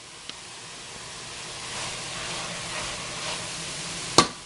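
Mushrooms frying in a pan give a soft, low hiss that swells gently in the middle, with a faint tap near the start and a sharp clink near the end.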